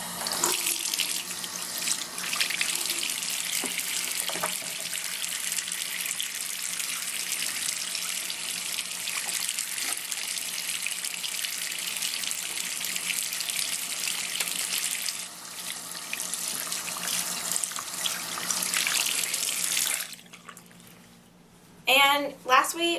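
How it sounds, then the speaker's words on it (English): Hands being washed under a running tap at a sink, a steady close rush of water for about twenty seconds that cuts off near the end, followed by brief handling sounds. "And you're going to wash your hands again."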